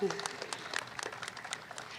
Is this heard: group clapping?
yes